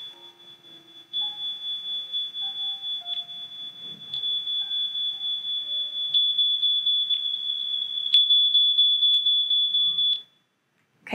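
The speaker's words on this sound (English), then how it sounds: "there's a pesky smoke alarm" A smoke alarm emits a steady, piercing high-pitched tone with rapid pulsing beeps, while faint piano notes play underneath before it stops abruptly.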